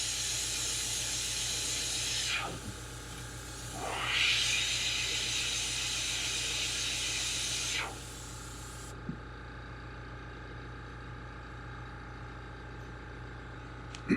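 An airbrush hisses steadily while paint is sprayed onto a Zoom Baits Wiggle Wart crankbait, with a few sweeping pressure shifts, then the airflow drops to a quieter hiss and stops near the end.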